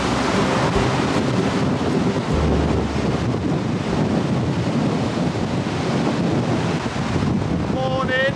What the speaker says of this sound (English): windy on the beach